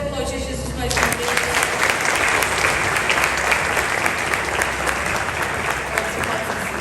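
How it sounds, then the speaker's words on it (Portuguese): A church congregation bursts into loud, dense applause after a brief sung or spoken lead-in, then keeps up a steady, full wash of clapping that fills the room for several seconds. "Você pode aplaudir Jesus mais uma vez"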